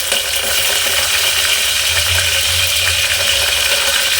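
Steady, loud sizzling of curry leaves and tempering seeds frying in hot oil over high flame, a continuous crackling hiss with no talking.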